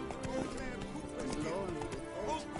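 Roach the horse's hooves clip-clop in The Witcher 3: Wild Hunt, a steady trot heard close under voices and game sounds for a few seconds.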